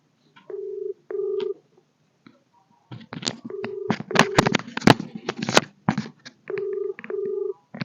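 Phone tones ring out as a prank call is placed, paired electronic beeps in short bursts separated by a loud stretch of clattering and handling noise, close and with no talking.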